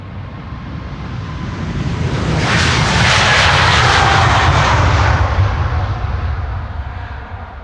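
A KLM wide-body jet airliner takes off at Amsterdam Schiphol, its engine roar swelling from a low rumble to a loud, close, crackling blast that peaks midway and then eases off as it passes, with no talk.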